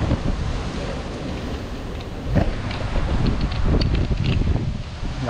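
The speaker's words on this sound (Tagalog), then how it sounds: "Lakas ng hangin ah." Strong wind buffets the microphone outdoors, rumbling and roaring in uneven gusts. Leaves rustle and there is a faint surf-like wash in the background, with no talking.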